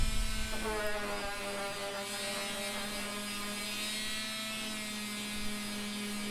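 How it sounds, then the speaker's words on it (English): A power sander works over wooden yard dice blocks, giving a continuous loud buzzing drone with a steady low hum throughout. "And now we have lots and lots of sanding."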